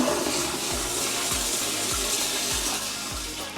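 A DeerValley DV-1S0371-V3 smart toilet flushes by remote with a loud, steady rush of water, sustained throughout with a repeating low gurgle from the bowl, close by and with no talking.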